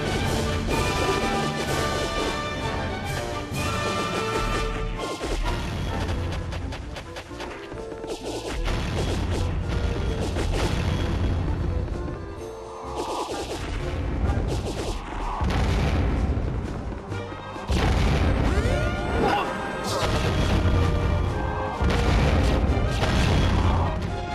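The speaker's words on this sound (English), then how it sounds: "Use that machine gun to blast the whole lot of them." Star Fox Assault game combat on the Katina mission: dense rapid machine gun fire mixed with repeated crashes and booming impacts, loud and continuous with brief dips, no talking.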